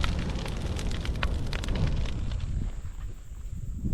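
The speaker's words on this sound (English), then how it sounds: "That's a good fire." Outdoor fire burning, a close rushing roar with scattered crackles and pops over the first half, easing to a softer steady hiss afterwards.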